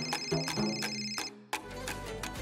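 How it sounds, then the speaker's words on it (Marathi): A telephone rings at night in a Marathi TV serial scene, a bright, repeating electronic ringtone in close, rapid pulses that stop briefly and then resume with a low hum underneath. "फोन वाजतोय."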